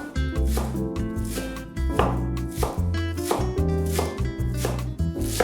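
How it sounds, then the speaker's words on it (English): A knife chops leek into small pieces on a cutting board, a close, steady run of crisp thuds for zucchini patties, with no talking over it. "Chop into small pieces."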